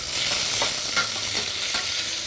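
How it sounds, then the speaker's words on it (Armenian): Thick pork ribs are stirred and fried in a pan over high heat, giving a steady close sizzle broken by soft scraping strokes of the spoon, with no talking. "այսպես տապակում ենք, այսինքն թեթևակի շոկ է հարում ենք"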